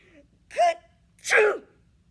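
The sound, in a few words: storyteller imitating a wolf's sneeze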